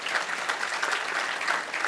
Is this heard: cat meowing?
no